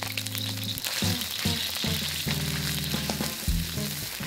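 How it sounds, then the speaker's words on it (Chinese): Minced pork is tossed into wok oil heated to near smoking for Sichuan mapo tofu, making a loud, dense frying sizzle with bursts of crackle as the meat is stirred, over a low steady hum, with no talking. "油快开始冒烟时，放入猪脚肉，然后快速的把它炒散。"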